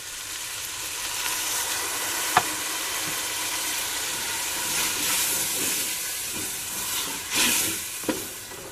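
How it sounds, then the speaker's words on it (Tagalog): A steady bubbling hiss of about one cup of water boiling in a cooking pot for pinakbet, continuous and fairly quiet, with a couple of brief clinks partway through. "Pakukuluin natin yan. Hayaan natin kumulo."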